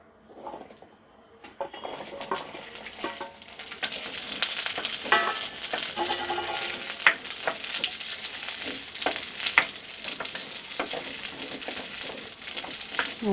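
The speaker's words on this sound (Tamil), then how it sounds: "இப்போ நம்ம இந்த உரித்து வச்சுருக்க சின்ன வெங்காயத்தை நல்லெண்ணெயில் வதக்கி எடுத்துக்கலாம்" Peeled small onions hit hot sesame oil in a pan for chutney; after a quiet start, a sharp sizzle builds into a steady crackling fry with occasional stirring.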